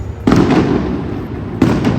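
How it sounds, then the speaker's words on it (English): Fireworks explode near a car park in BGC, Philippines, with two loud bursts, one early and one near the end, each trailing into crackling rumble. "Why is there fireworks?"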